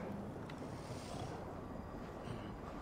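Steady wind blowing in Assassin's Creed Valhalla, a faint continuous low whoosh with no clear gusts, heard alone without talking for about three seconds.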